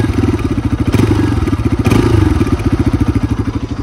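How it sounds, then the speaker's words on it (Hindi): A Bajaj Pulsar RS 200 BS6 motorcycle just started, idling close by with a loud, throbbing exhaust pulse and a couple of brief throttle swells. "अब सुनाने वाला हूँ भाई RS 200 का साउंड, तो फटाफट इसको स्टार्ट करते हैं एंड देन सुनते हैं इसका साउंड"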